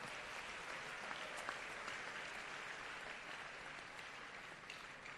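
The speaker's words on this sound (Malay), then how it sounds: "Ayuh kita berikan tepukan paling bergemuruh untuk Bank Rakyat" A large audience at a school ceremony applauds a sponsoring bank, with a steady, faint wash of clapping heard from a distance throughout.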